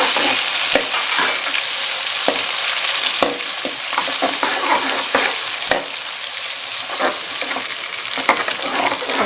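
Onions fry in hot oil with ginger garlic paste and whole garam masala, a loud continuous sizzle broken by repeated sharp clicks and scrapes of a spoon stirring the pan.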